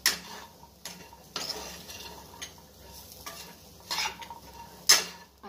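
A spatula stirs boiled, lightly salted sweet potatoes in a pan with little oil, making soft scrapes and several sharper clinks against the metal over a faint low sizzle, without any speech.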